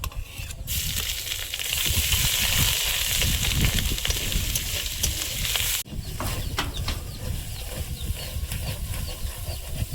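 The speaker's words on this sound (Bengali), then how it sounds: "ফোড়নটা আমার ভালোভাবে ভাজা হয়ে গেছে" Whole spices and grated ginger are tempered in hot oil, giving a steady, loud sizzle. It dips sharply once partway through, then goes on as a softer frying crackle with light stirring scrapes.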